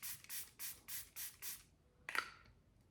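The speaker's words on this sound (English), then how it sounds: "let me put some of this mist on the sponge" A setting mist bottle sprays onto a makeup sponge in five quick, evenly spaced hissing bursts, followed after a pause by a short rustle and click, all close and quiet.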